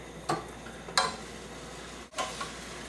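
Beef frying in a pan on turned-down heat gives a soft steady sizzle, broken by a few sharp clinks or scrapes of a utensil stirring the meat.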